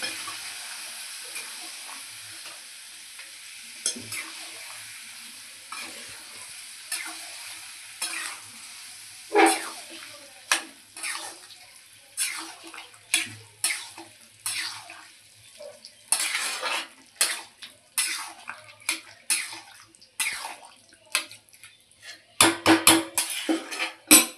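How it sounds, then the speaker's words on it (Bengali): A spoon scrapes and clanks around a cooking pot of boiled moong dal, mixed vegetables and whole green chilies in oil, with rhythmic stirring strokes that grow busier and louder over a soft sizzle and no speech. "একটু গোটা কাঁচা লঙ্কা দিয়েছি, দিয়ে এটা নাড়া হবে।"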